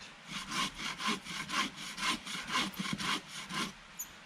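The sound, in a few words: hand saw cutting dead wood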